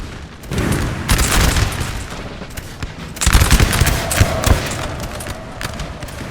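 Massed musket volleys in a Napoleon Total War battle, loud crackling ragged bursts of many overlapping shots with thumping booms, swelling in two waves over a continuous battlefield din.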